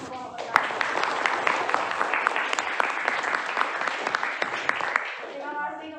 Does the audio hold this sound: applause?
yes